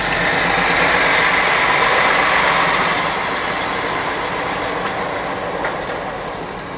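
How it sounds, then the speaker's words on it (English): A big lorry rumbles past close by, a loud broadband engine roar that stays steady for several seconds, then slowly fades as it moves away, with no voices. "Big old lovely lorry coming past here."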